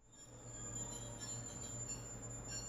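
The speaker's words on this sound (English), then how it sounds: "our new locomotive from Cluj appears in the distance" A distant locomotive with a carriage rolls in steadily on a Romanian night train route, with a low rumble and a faint high metallic squeal from the wheels throughout.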